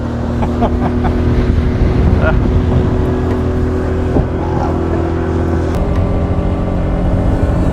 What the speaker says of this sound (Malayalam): വളരെ ഭയങ്കര സ്പീഡിലാട്ടോ ബോട്ട്